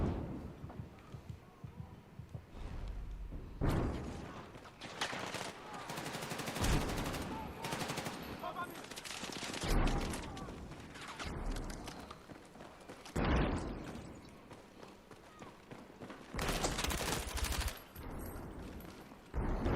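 Automatic gunfire in Battlefield 6 at Hagental Base comes in repeated loud, close bursts, with machine-gun rattles and sharp cracks alternating with brief lulls, alongside footsteps and other battlefield noise.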